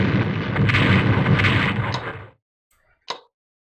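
A battleship being sunk in the WW1 strategy game Strategic Command: a long, loud rumbling explosion roars for about two seconds and cuts off, then a short sharp pop follows after a pause.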